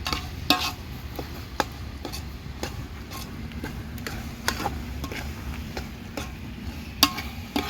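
Masala rice is stirred in a pan, a soft bed of sizzle broken by sharp, irregular clicks and taps of a spoon against the metal, close and fairly quiet, with no talking.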